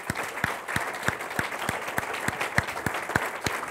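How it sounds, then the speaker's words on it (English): Audience applause at a Numis Network business meeting, a loud continuous crowd clapping with a prominent steady rhythmic beat of claps running through it, close and without talk. "Let's give them a big round of applause."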